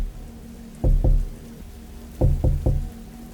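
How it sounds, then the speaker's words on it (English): Two groups of slow, heavy knocks on a door at night, a pair and then a steady three, close and dull against a quiet room. "3 knocks."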